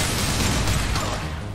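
Dense, loud burst of gunfire from a Mass Effect 2 firefight, a continuous rattling barrage of overlapping shots and booms with no pause.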